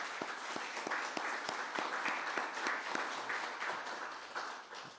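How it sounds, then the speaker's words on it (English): A room applauds at a mayoral news conference in Birmingham after a $10 million foundation gift is announced, a steady wash of mixed clapping with some sharper individual claps standing out across the whole stretch, fairly close and loud. "And I think that's worth a round of applause."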